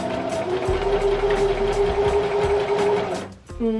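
Sewing machine stitching a sleeve of remade clothing, a close, loud, steady whirring run that stops briefly near the end.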